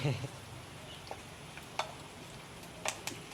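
Faint sizzling of pork belly with skin stir-frying in a pan, with occasional sharp pops and spatula clicks against a quiet crackling background.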